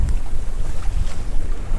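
Sailboat under way at night in 13 knots of wind, with a steady rush of wind buffeting the microphone and low churning water noise alongside the hull, loud and close.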